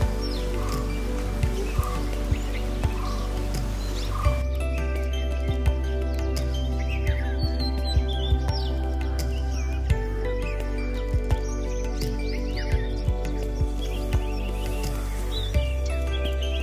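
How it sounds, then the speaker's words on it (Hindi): Tickell's blue flycatcher calls at Sinhgad Bird Valley, a series of thin, high chirps and short whistles scattered over a steady low background hum, fairly faint and intermittent. "यह है नीले और केसरी रंग का सुंदर पंछी, जिसे मराठी में नीलिमा और अंग्रेजी में टिकल्स ब्लू फ्लाई कैचर कहते हैं।"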